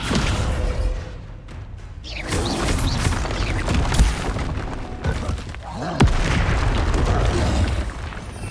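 Spell effects from Hogwarts Legacy on PS5, with the Descendo slam among them: a continuous barrage of booms, thuds and bursts with sharp impacts near 4 and 6 seconds, dense and loud throughout.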